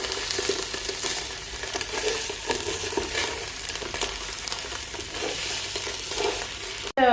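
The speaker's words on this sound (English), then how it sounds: "now we're gonna add ginger and garlic, and then we're gonna stir it and let it cook for a bit" Ginger and garlic sizzle with browned onions in a pan for pulao, a steady close frying hiss with scraping stir strokes throughout, no voices, ending in a brief sharp cut.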